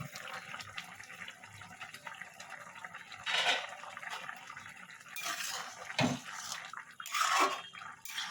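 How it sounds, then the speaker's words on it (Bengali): A lid comes off a pot of ridge gourd, bean and potato curry, with a few distinct metallic clanks and clatters over a soft, wet cooking background. "এবার ঢাকাটা সরাবো।"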